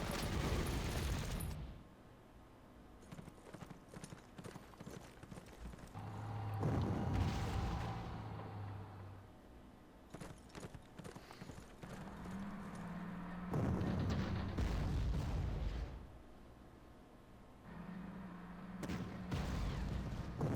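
Anti-aircraft cannon fire rings out in the Panzer Corps wargame, several separate booming bursts spaced through the stretch with rumbling tails, moderately loud over a quiet background.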